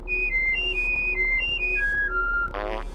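Whistled melody from the video game Oddworld: Abe's Oddysee, a run of clear, bright tonal notes stepping up and down in a short tune, followed by a brief buzzy vocal sound at the end.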